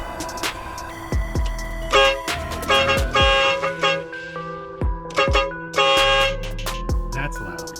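A HornBlasters Psycho Horn air horn fitted to a car and wired straight to the battery, letting out a series of very loud, blaring multi-tone blasts of varying length, separated by brief gaps, close to the listener.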